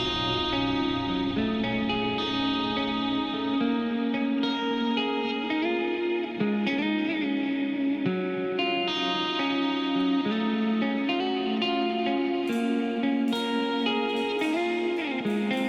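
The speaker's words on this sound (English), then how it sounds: "That echo and reverb, too." A progressive instrumental song with a melodic guitar lead washed in echo and reverb, playing steadily over dense backing at moderate volume with no talking.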